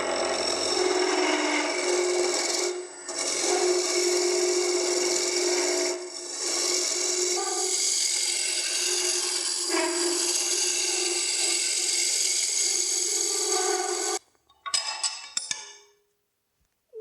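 A skew chisel shaves a wooden spoon and spatula blank spinning on a lathe, refining its diameter end to end. The steady, loud rasping cut runs nearly continuously for about fourteen seconds, with brief dips, then breaks into a few short scrapes before stopping.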